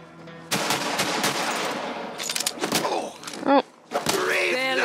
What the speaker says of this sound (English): Someone's up there shooting at me.